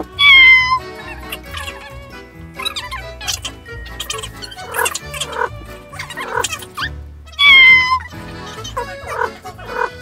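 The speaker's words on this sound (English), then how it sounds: "Jude, your cat is in great condition." A domestic cat meows repeatedly at a vet check-up, with loud, close, drawn-out calls, the strongest near the start and again about two thirds of the way through, and other animal-like cries in between.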